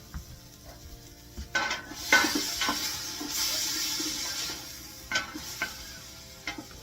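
Wooden spoon stirring moussaka sauce of garlic and hamburger frying in a pan, with soft scraping strokes over a steady sizzle, a few louder clatters near the start and end, and no talking.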